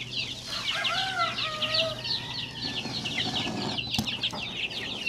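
Backyard chicks and chickens cluck and peep at feeding time, with a dense, steady stream of high chick peeps over lower hen clucks and a brief clatter near the end.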